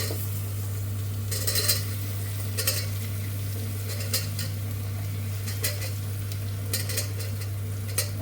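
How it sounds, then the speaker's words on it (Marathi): Spice paste with turmeric frying in a pan, a steady sizzle over a low constant hum, broken by repeated bright scrapes and clinks of a utensil stirring against the metal every second or so. "आता आपण ते वाटण जे केलं होतं ते आपण आता ॲड करून ते चांगलं फ्राय करायचं आहे."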